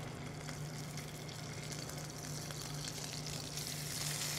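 Scallops searing in a little oil in a hot pan: a steady, dense sizzle with no breaks, moderately loud and close, swelling slightly toward the end.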